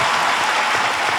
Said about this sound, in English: Can we please give a resounding applause to our super eagles?